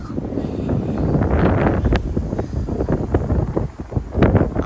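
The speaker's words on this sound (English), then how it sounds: "The wind's really kicking on that live oak." Strong, damaging 50 mph wind gusts tear through a live oak in a front yard in Frisco, Texas, making a loud, continuous roar with rough buffeting against the microphone throughout.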